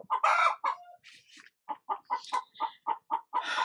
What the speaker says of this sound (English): You're just going to have to deal with the chickens, guys.